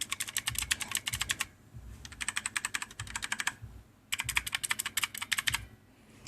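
Fingers tap rapidly on the mechanical keys of a Razer Orbweaver gaming keypad, quick clicky bursts in three runs separated by short pauses, close but fairly quiet.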